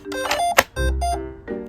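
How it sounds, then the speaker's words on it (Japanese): An AEROTOOLS MK-1 PLUS cordless blower with an enlarged fan powers on with a short series of close electronic tones, then settles into a deep, steady motor whir. "続いて MK1 プラスの起動音はこんな感じです。"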